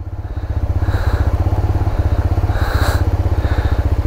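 A motorcycle rides through jungle in a tiger reserve, its engine thumping in a fast, even pulse close by and loud throughout, with a couple of faint hissy swells passing over it.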